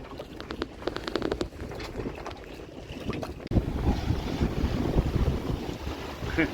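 Wind buffets a boat out on the water, a steady rushing roar of microphone gusts with some sharp knocks early on, growing louder and rougher in the second half.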